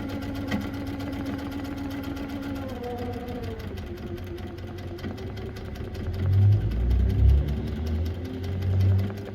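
A sewing machine stitches a travel line across a quilt, its steady motor hum running continuously at close range, swelling louder in a few bursts toward the end.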